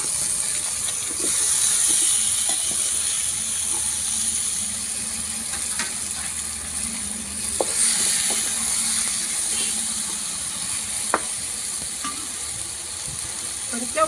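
Tomato pieces fry with green chillies in a pan, a low steady sizzle with scattered clicks and scrapes and a faint hum throughout.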